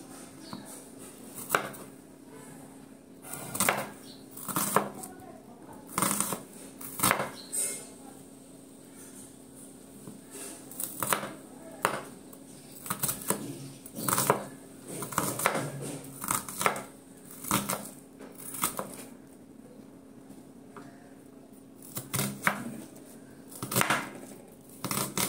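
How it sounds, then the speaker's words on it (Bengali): Onion being chopped into small pieces with a knife on a board, a steady run of sharp, close knocks with short pauses, no talking. "পেঁয়াজটাকে একদম ছোট ছোট করে কেটে নেব"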